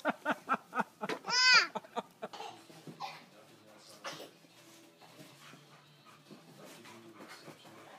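A dog whimpers and yips in short high-pitched cries, close by, followed by softer whines mixed with faint background voices.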